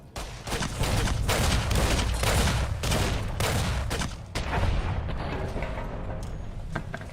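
Grenade rifle fire in the video game Fallout New Vegas, a series of loud, heavy booming blasts and rumbling impacts in quick succession that gradually fade toward the end, with no talk over them.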